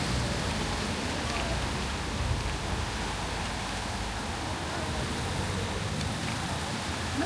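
Steady rain falling on an evening outing, a continuous even hiss of drops that fills the whole stretch at a constant level with no breaks.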